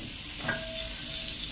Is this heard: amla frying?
yes